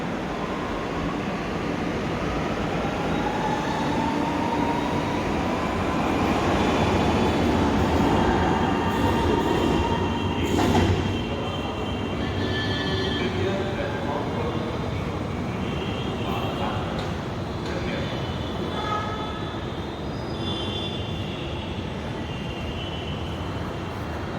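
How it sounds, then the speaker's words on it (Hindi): A Lucknow Metro train rumbles and hums as it pulls away from Badshah Nagar station, wheels squealing faintly, the roar swelling midway then easing into a steady drone. "अब ये ट्रेन बादशाह नगर से आगे इंदिरा नगर की ओर बढ़ गई है"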